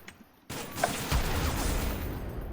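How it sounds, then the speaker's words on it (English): Gunfire in the CTB2 server of an online shooter game: a sudden loud burst of shots that swells into a dense, sustained clatter of fire after a brief quieter lead-in. "Y'all gotta stop shooting at me."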